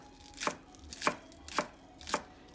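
A knife chops through onion ends on a cutting board in four evenly spaced, crisp strikes, each a sharp close knock with silence between.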